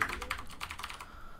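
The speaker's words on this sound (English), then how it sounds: "This isn't the first time you've heard the ridiculously loud mechanical keyboard here." Rapid clicky keystrokes from a very loud mechanical keyboard, a quick burst of close, crisp typing that slows and fades toward the end.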